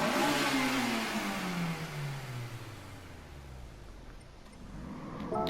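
A Honda S2000 AP1 engine in Gran Turismo Sport races high, then its pitch drops smoothly as it comes off the throttle and settles, before climbing again briefly at the end, loud and alone.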